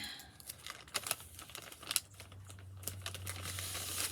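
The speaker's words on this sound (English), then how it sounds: "take another probably 2 pieces of tape and go ahead and tape that down to your bag" Pieces of tape crinkle and tear and are pressed down onto a folded paper bag in a children's craft. The sounds are close, quick and irregular, with rustling crackles and a few sharper rips.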